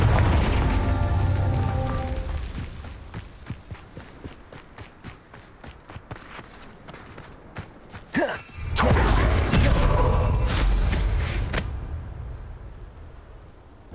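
A heavy fiery spell blast from the Hogwarts Legacy video game erupts as a deep boom after a stretch of rapid footsteps and rumbling, loud and close, then fades into low ambient noise.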